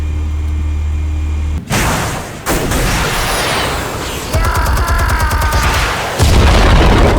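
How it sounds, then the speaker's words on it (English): A loud explosion and heavy rumbling booms in a scene from Batman: The Telltale Series, with dense blasts and crackling debris filling the whole stretch and no voices. "Explosives armed. Fire when ready."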